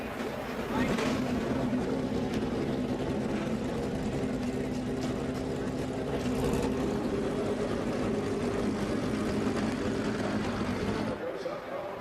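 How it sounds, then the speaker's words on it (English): Indy Lights race cars firing up their engines before the Freedom 100 at Indianapolis, a sustained broad roar mixed with an announcer's voice, holding steady before dropping away near the end. "Drivers, start your engines."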